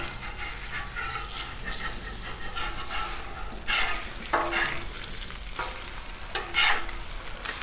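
Eggs fry in bacon grease on a Blackstone flat-top griddle with a steady low sizzle, broken by a few sharp scraping spatula strokes during flipping; no talking.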